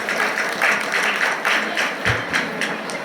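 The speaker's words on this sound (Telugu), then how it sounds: "ఒకసారి మనం అందరం కూడా చప్పట్లతో దీన్ని మనం ఆశీర్వదిస్తాం" Guests at a Christian wedding in a function hall in Jangaon district applauding to bless the couple: a brisk, steady run of clapping close by, no voices over it.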